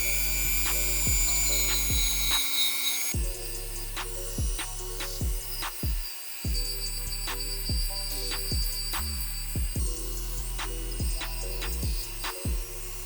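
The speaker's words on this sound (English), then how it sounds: "I'm gonna be using a Dremel with a steel drill bit" A Dremel rotary tool with a steel bit grinds old glue off a sneaker sole, whining at high pitch in repeated bursts that stop and restart several times, close and loud with no talking.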